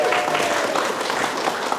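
Audience applause in a training-hall gathering, a short burst of dense clapping from a modest crowd, steady and fairly close throughout.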